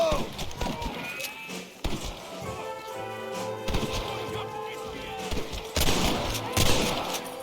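Gunfire in Red Dead Redemption, with scattered shots and bursts of a frontier shootout mixed with game music and bustle. A player talks over the action.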